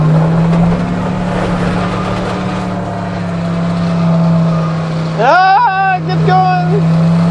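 A classic Chevy C10 pickup on Firestone Winterforce 2 snow tires drives through deep snow on a farm road. Its engine gives a steady, close hum while a man calls out briefly over it near the end.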